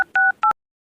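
A phone number is keyed in as a few short, clean DTMF tones, close and loud, then silence.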